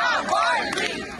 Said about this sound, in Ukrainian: Труну до храму заносили під оплески та вигуки.